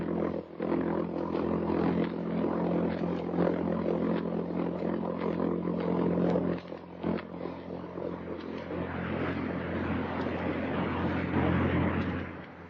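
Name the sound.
V-1 buzz bomb jet engine recording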